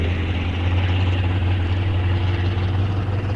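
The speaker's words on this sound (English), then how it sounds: "That big old diesel just sending it down." A big diesel truck at a drag strip, its engine a loud, steady, deep drone held at full throttle during the run, with no voices over it.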